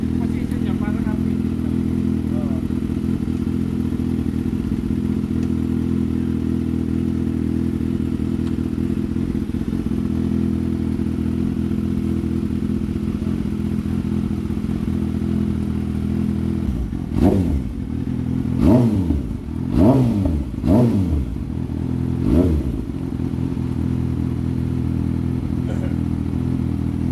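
A Kawasaki 600cc big bike idles with a steady low rumble, then near the end gets several short throttle blips and revs, with some clatter, heard close up.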